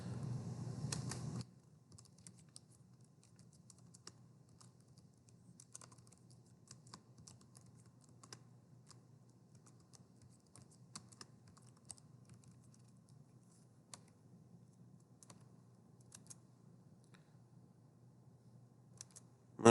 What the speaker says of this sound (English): So let's type the data that we have.